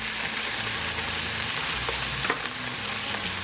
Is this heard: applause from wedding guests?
no